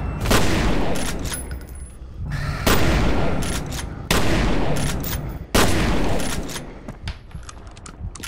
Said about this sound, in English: And you were shooting the wall the entire time.